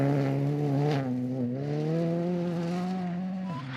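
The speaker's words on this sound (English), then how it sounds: "It's a fairly graphic example of just how difficult it is to drive with all the air not in the tyre." Rally car on a gravel stage in South Canterbury, New Zealand, driving on a punctured tyre, its engine holding a steady strained drone that wavers slightly in pitch, heard alone and fairly close throughout.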